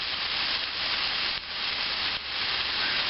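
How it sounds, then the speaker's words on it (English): Vegetables for a ground beef and veggie pie filling stir-fry in a pan over lowered heat, giving off a steady, close sizzle and hiss that dips briefly twice, with no talking. "I'm just gonna stir fry them till they're a little on the soft side"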